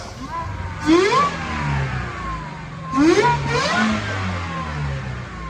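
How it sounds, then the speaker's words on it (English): A Whipple-supercharged 2019 Ford GT350 on a chassis dyno makes two strong full-throttle pulls, each engine note climbing sharply in pitch before easing off, loud and close. "So I want to show you these dyno pulls."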